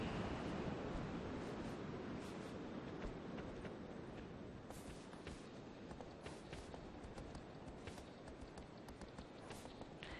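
Ocean surf rolls continuously onto a beach in the video game Shadow of the Colossus, a dense, even wash of breaking waves with faint scattered clicks and no speech.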